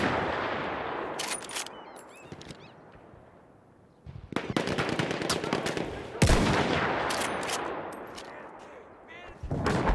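Machine gun fire in the Battlefield 1 video game, with sharp rapid bursts and scattered shots over rumbling battle noise, loud in places and trailing off between volleys.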